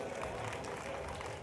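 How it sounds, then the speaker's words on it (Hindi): An audience claps at a religious gathering, a soft, continuous patter of many hands heard from a distance and fairly faint throughout the short stretch. "तालियां बजाओ"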